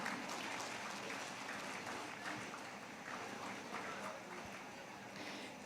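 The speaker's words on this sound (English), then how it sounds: "Huge round of applause for Dolly ma'am." Applause at a nursing conference award ceremony after an award speaker, a faint, steady wash of clapping from the audience that holds evenly throughout.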